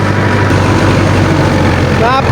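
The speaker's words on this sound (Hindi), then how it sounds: "पूरा रोटावेटर बैठा हुआ है और फिर भी आरपीएम ड्रॉप ट्रैक्टर नहीं कर रहा।" A Sonalika Tiger tractor pulls a fully lowered rotavator through a field, its engine holding a loud, steady, low-pitched drone without dropping revs.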